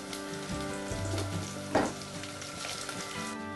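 Ginger-garlic paste frying in oil with onion and green chillies for a bottle gourd and gongura curry, a loud, close, continuous sizzle with a sharp spatula knock midway.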